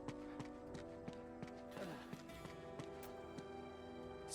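A horse in the Uncharted 2 video game clip-clops in a steady, evenly spaced hoof rhythm, quiet and mixed with game music and ambient sound.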